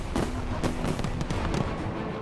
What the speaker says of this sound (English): millions of firecrackers are launched from giant beehive-shaped structures, lighting up the sky with colorful explosions and creating deafening noise